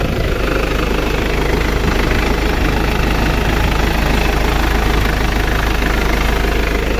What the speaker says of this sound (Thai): ลูกค้าลองฟังเสียงเครื่องยนต์เลยนะครับ